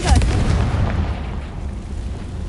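A Confringo fire spell from Hogwarts Legacy bursts with a loud, booming blast at the start, then a rumbling fiery tail that slowly fades.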